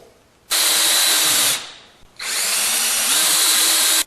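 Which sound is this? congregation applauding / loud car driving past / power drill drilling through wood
power drill drilling through wood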